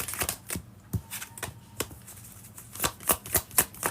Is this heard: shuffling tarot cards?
yes